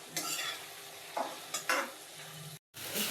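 A spoon stirs ridge gourd and coriander curry in a pan, making several separate scraping strokes over a soft sizzle, close and fairly quiet, with a brief gap of silence near the end.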